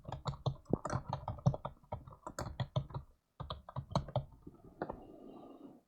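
Keys clatter on a computer keyboard in quick irregular bursts, close and fairly quiet, with a brief pause midway before the typing resumes and trails off.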